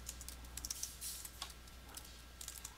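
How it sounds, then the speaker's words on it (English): Soft typing on a computer keyboard while entering HTML code, a quick run of light, scattered key clicks, faint and close, with no talking. "I'm going to start typing"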